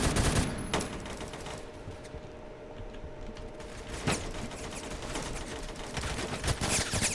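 Rapid automatic gunfire in the Roblox shooter Phantom Forces, with dense bursts of shots filling the clip, loudest at the start and swelling again near the end, and no talking.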